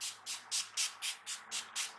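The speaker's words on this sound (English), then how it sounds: "Spray the face with some NYX matte finish." NYX matte finish setting spray is misted onto a face in a makeup routine: about eight quick, evenly spaced hissing pumps, close and clear, with no talking.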